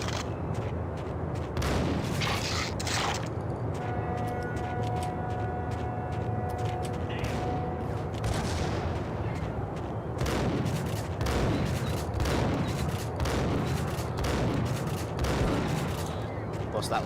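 Gunfire in the Max Payne video game: dense, continuous bursts of shots and impacts over a loud game soundscape, with a person talking over the action.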